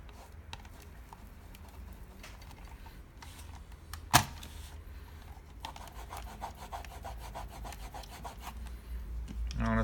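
Sticker residue being rubbed off an electronic device, a steady close scrubbing friction with a faint rasping texture, one sharp knock midway, and the rubbing growing slightly louder toward the end; no talking.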